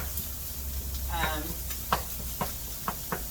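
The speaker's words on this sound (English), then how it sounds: "I'm just browning it right now." Grass-fed organic ground beef browns in a skillet with a steady, moderate sizzle, broken by a few sharp spatula scrapes as the meat is stirred, no talking.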